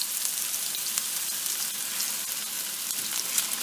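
Salisbury steak patties fry in hot oil in a pan, giving a steady, close hissing sizzle with small crackles throughout.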